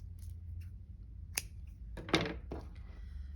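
Scissors snip crochet yarn in a few quiet, close cuts, with a sharper snip in the middle, against a soft, still background.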